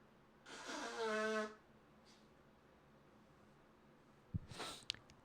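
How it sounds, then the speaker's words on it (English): A person blows their nose off to one side, a single forceful honking blast lasting about a second, followed later by a short snuffling sniff and faint rustling. "I gotta blow my nose"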